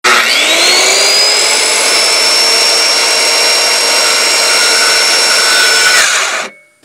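Power tool cutting a dovetail into a log for a log cabin, a loud, steady high-pitched motor whine that rises at the start, holds for about six seconds, then cuts off abruptly.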